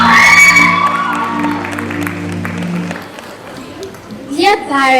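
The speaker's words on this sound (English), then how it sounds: "A round of applause." Audience of parents and pupils at a school prefects' investiture ceremony, applauding and cheering after an announcement, with a voice over the start and clapping fading before a short shout near the end.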